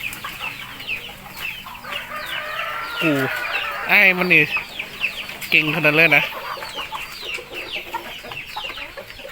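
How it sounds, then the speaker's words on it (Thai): Farm chickens that are growing larger cluck and squawk nearby in the evening, with repeated loud bursts over a busy flock background, while someone talks briefly. "ไก่ตอนนี้ก็เริ่มใหญ่ขึ้นมาแล้วเนาะ เติบโตขึ้นมาแล้วนะครับ"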